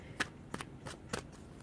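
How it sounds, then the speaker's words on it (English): Tarot cards being shuffled, with several crisp riffling bursts spaced irregularly against a quiet background, close and fairly soft. "let's shuffle the cards"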